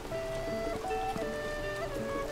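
Steady rain in the video game Zelda: Tears of the Kingdom, a soft continuous patter of drops beneath sustained musical tones, with no talk.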